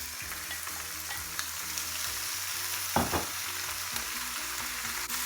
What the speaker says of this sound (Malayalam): ഇനിയിപ്പം നമ്മളതിലേക്ക് നമ്മൾ കഴുകി വെച്ച ബീഫ് ഇട്ട് കൊടുക്കുകയാണ്.